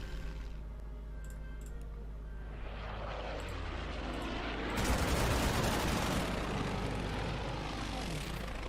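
A fighter plane in the World War II strategy game Order of Battle roars past, its propeller engine swelling into a loud, dense rush midway with crackling gunfire-like bursts, steady and close.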